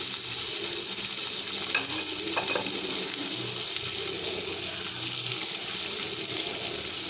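Onions sautéing with salt in a pan for an Onam coottu curry, giving a steady, close, continuous sizzling hiss with faint stirring touches and no voices.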